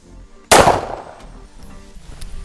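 A single loud pistol shot from a CZ Shadow 1 Orange at a shooting range, a sharp close crack at the start followed by a decaying ring and low background noise.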